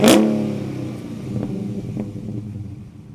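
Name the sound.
Dodge Challenger Hemi V8 engine revving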